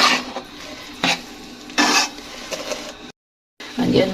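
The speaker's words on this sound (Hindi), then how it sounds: "अब इसको हल्का हल्का भूनना है, जैसे पहले भुनी थी पसवाने से पहले, ऐसे ही इसको भूनना है।" A spoon scrapes and stirs chana dal flour as it roasts in a pan, coming in rough bursts of rubbing and light clatter with a soft sizzle, close by, with a brief gap of silence near the end.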